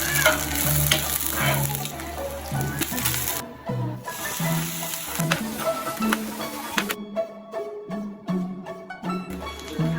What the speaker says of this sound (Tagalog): Ganto nga pala yung style ko sa pagluluto ng adobo.